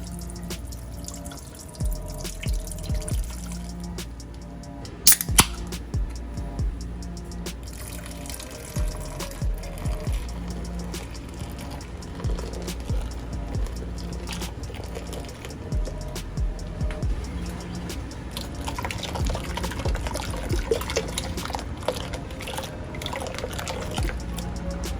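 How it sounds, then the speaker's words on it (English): Miller High Life beer poured from opened cans into a cooking pot for steaming scallops, a steady liquid trickle with drips and small clinks, a sharp can-opening snap near five seconds, moderately close in a kitchen. "Let's open up some cans and let's get this beer"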